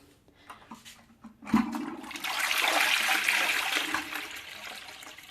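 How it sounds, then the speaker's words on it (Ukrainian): A toilet fitted with a blue freshener block flushes up close after a few faint taps, the water rushing in loudly and then settling into a steady gurgling swirl and trickle that carries on to the end. "Це я перед цим змивала була."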